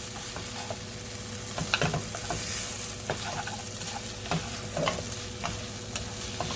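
Pad thai noodles stir-fried in a hot pan sizzle steadily, with a spatula scraping and tossing at irregular intervals, close and continuous without any talking.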